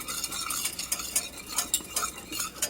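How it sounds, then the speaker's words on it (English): A small whisk stirs thickening, bubbling gravy in a pot for shrimp and grits, with quick, close metallic scrapes and clinks against the pot in an irregular rhythm, no voices. "This is my smaller whisk for my gravy."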